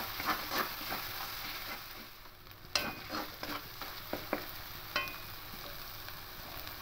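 Ground coriander, cumin and Kashmiri chilli powder stirred into paneer rezala in a pan, a soft continuous sizzle with several light spoon scrapes and taps, close and fairly quiet.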